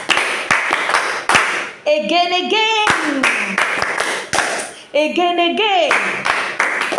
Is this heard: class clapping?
yes